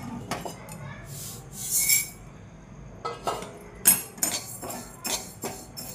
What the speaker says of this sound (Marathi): आता ही उडीद डाळ भाजून घेऊ.